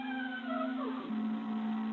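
A single drawn-out cat meow, wavering in pitch over about a second, heard over a steady electronic hum.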